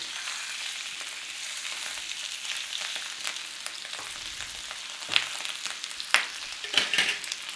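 A steak fries in a pan, a steady hissing sizzle with a few sharper crackles and spits, the loudest bursts toward the end.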